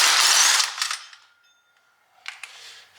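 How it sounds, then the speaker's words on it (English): An impact wrench rattles off bolts on a Mazda Miata during a clutch job, a loud hammering burst up close that fades into faint clinks before a shorter second burst. "we like to use the impact if we can. It definitely makes it quicker."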